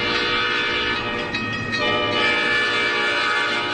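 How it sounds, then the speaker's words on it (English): A passing train as a sound effect, a loud steady rumble of rail cars with sustained horn-like tones holding throughout, briefly swelling mid-way, with no voices. "There's a train in the way."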